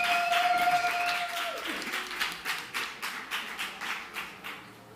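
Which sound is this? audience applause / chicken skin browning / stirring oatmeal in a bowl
audience applause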